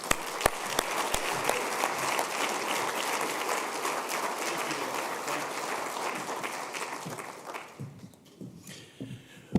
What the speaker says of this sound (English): Please join me in welcoming Senator Todd Young